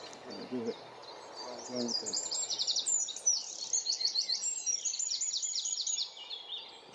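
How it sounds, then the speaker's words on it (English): A small bird sings a rapid, high-pitched trilling song close by at Paxton Pits nature reserve in England, with a brief lower murmur of voices at the start. "One of Britain's smallest birds, but that song is amazing."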